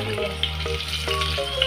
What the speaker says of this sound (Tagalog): Lalagay na po natin ang sibuyas